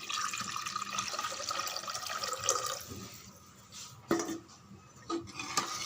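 Measured water poured into a pot for Tamil coconut milk rice, a steady running splash with a few clinks of the vessel, alone without talk.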